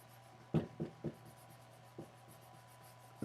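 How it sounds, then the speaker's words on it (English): A finger rubs ink on paper to blend it, making a handful of short dry scuffing strokes, close and soft, spaced irregularly over a quiet background. "it's not really blending with my finger."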